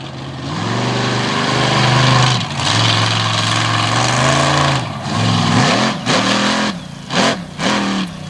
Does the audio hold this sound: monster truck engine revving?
yes